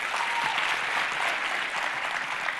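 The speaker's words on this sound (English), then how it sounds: "Give her a round of applause." Steady audience applause at a young women's leadership summit speech, dense and continuous from start to finish with no voices over it.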